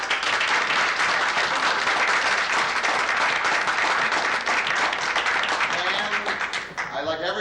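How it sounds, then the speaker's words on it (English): A large audience at a 1995 colloquium closing session applauds in one long, dense, sustained round that stays loud and even for several seconds, then thins and fades at the end. "invite the members of this colloquium sitting here to give a great round of applause to our wonderful audience"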